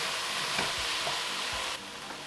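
Tomatoes are stirred back into a hot pan for an oil-free Mediterranean zucchini pasta, with a steady sizzle and a few soft scraping strokes of the spoon. No one speaks, and the sizzle drops slightly near the end.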